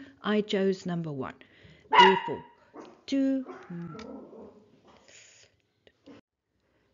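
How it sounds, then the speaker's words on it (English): Dog barks in a few short, separated bursts in the background of a room where a man explains a calculus problem, his voice dominating and the barks mostly mixed under the talk. "Please pardon the dog's barking."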